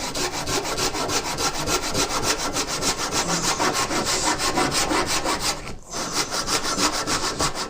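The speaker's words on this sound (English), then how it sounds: "let me get to sawing this next board" A hand saw cuts through a wooden board in steady, rapid back-and-forth strokes, close and loud, with a brief pause near the end before the sawing resumes.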